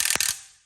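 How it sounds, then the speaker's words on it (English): A short mechanical burst of rapid clicking rattles from an impact wrench on axle bolts, close and brief, ending in a quick fading tail. "Johnny's gonna use an impact real quick"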